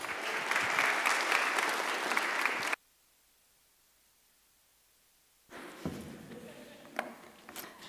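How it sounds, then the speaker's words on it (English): Audience applause for a lecturer at a university talk on a just food transition, a dense, steady clapping that breaks off abruptly, then after a pause a few scattered claps and room noise return. "So please give a very warm round of applause for Dr. Julia Tschersich."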